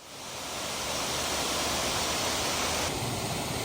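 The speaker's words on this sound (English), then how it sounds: "we found a bonus waterfall." Ludlow Falls in the New York Finger Lakes, a waterfall with a little cave underneath, roars as a steady, loud broadband rush of falling water that fills the whole clip without voices.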